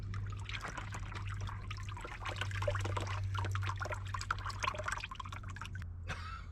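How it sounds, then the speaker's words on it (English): A drained mixture of oil and lumpy antifreeze from a Subaru coolant system dribbles and splashes steadily into a container, a close, continuous trickle with scattered drips and no talking. "We can dump this out. Look at this mixture of oil and antifreeze."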